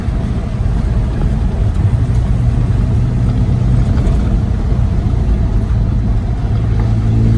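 Toyota Hilux engine revving while driving on gravel, a loud steady rumbling engine note with road and tyre noise throughout, close and continuous, no talking.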